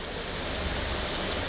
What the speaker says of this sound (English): We got caught in this lovely torrential downpour, but it's getting lighter right now.